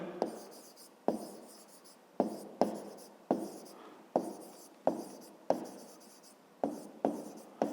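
Pen writing on paper while a 5th-grade math exercise is worked out: a series of sharp scratchy strokes, roughly one per second, each fading quickly, close and clear with no talking.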